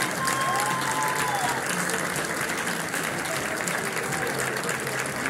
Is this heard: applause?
yes